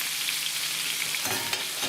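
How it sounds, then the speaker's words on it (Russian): Crucian carp coated in mayonnaise fries in boiling oil in a pan, giving a loud, continuous hiss and crackle with scattered pops, close and steady throughout. "масло сверху кипит, она пропитывает карасика изнутри и выходит прямо наружу"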